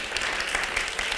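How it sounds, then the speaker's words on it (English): Dense, steady applause from an audience at a Houston Ballet event, filling the whole moment at even loudness with no voices over it. "Let's give another huge round of applause for this wonderful woman tonight"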